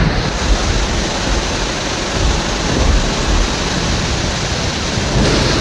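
Heavy rain pours down in a thunderstorm on a shop front in Mullassery, Thrissur, a dense, loud, unbroken roar of rainfall with deep rumbling underneath and no voices.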